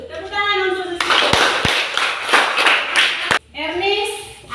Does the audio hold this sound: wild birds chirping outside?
no